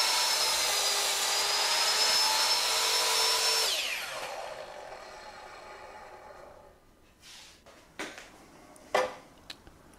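A miter saw cuts through pieces of wood, a loud whining spin-up and cut that cuts off and winds down, followed by a few sharp knocks and clunks as the pieces are handled.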